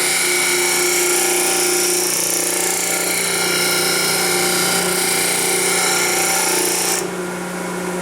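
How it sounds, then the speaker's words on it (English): A disc sander grinds steadily along a curved wooden edge, a loud continuous motor whine with a sanding rasp that eases off near the end. "We've sanded down that curve."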